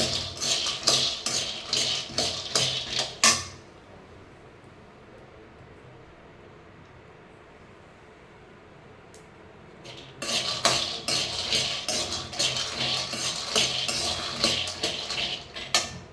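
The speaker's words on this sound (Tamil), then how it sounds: "இப்போ கடலையை வந்து நல்லா வறுத்துக்கலாம்" Peanuts roast in a pan under rapid, rhythmic metal scraping and stirring that is loud and close, then stops for about seven seconds of low background hiss before the stirring starts again.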